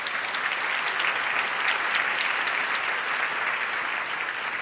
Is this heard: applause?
yes